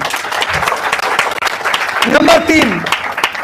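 Loud, dense applause from an audience at a Hindi motivational seminar, a continuous roar of clapping close by, with a voice talking and cheering over it partway through.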